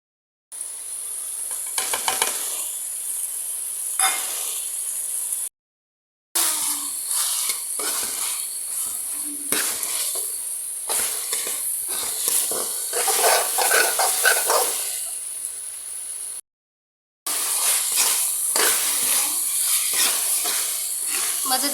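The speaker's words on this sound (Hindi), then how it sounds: "मसाले शामिल कर लिए हैं, अब अच्छे तरीके से इसको फ्राई कर लेंगे।" Spiced karahi gosht curry with tomato and onion fries hard in a kadai, giving a loud, steady sizzle broken by scraping stirs, with two short silent cuts between passages.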